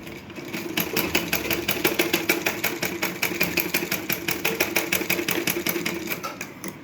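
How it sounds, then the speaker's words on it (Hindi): A sewing machine stitches a blouse seam up close, a steady, fast mechanical clatter with an even rhythm running continuously throughout, with no voices. "यहाँ पे सिलाई बैक करके निकाल देनी है"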